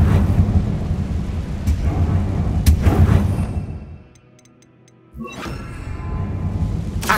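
Heavy booming blasts and rumbling crackle from Confringo fire spell explosions in the Hogwarts Legacy video game, loud and sustained, dropping to near silence for a moment before another burst and a lingering roar.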